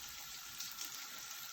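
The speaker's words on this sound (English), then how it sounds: "You got to get a really good sizzle going on there." Bubble and squeak frying in a pan, a quiet, even crackling sizzle running steadily throughout with no voices.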